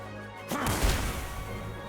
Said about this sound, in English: Well, that also sounded like a gunshot.